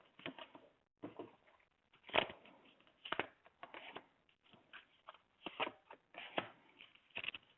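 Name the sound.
tarot cards being shuffled for a reading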